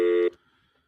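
A short electronic telephone tone sounds steadily for a fraction of a second, then cuts off abruptly into near silence.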